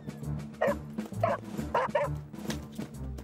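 A cartoon rescue dog from Fireman Sam barks and yips in short bursts, several quick barks close to the microphone over a soft background tone.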